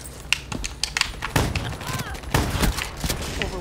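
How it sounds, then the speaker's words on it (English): Shotgun blasts and other gunfire from the Call of Duty Black Ops 3 video game crack in sharp, irregular bursts over game effects, with a voice talking underneath. "Shotgun at the ready."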